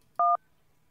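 A telephone keypad sounds DTMF dialing tones in the middle of an automated phone line, two short clear beeps in quick succession against near silence.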